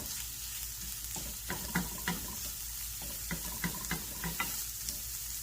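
Sausage and peppers frying in oil in a pan, a constant soft hiss with a few light clicks and scrapes from stirring, close by and fairly quiet, with no talking.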